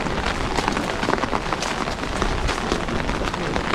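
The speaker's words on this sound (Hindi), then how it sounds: "अभी यहाँ पर चारों तरफ से बादल हैं एंड बारिश है" Steady rain falling on all sides in cloudy Meghalaya, a dense continuous patter of drops on surfaces, close and fairly loud with no talking.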